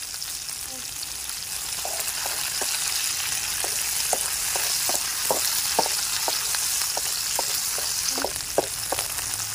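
Green chillies and garlic fry in a pan for gongura chutney, a steady close hiss of sizzling oil punctuated by repeated light knocks of a stirring spoon at an irregular pace.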